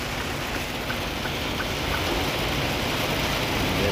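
Heavy rain pours steadily in the Appalachian mountains of West Virginia, a dense continuous hiss of drops on a vehicle's surfaces, faint and even in level, with a low road rumble underneath and no talk.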